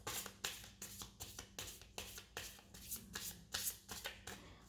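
Oracle cards are shuffled by hand in a quick run of repeated papery riffles and flutters, close and quiet, in a steady rhythm without pauses.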